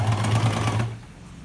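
A sewing machine runs briefly, stitching a Patiala pant with a close, rapid buzzing chatter for under a second before stopping.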